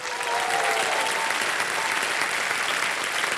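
Studio audience applause on a television quiz show set, a dense, steady wash of many hands clapping at once, loud and continuous throughout with no talk over it.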